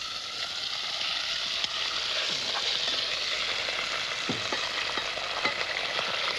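Pork frying in a hot pan, a steady close sizzle with occasional stirring scrapes and pops, no voices.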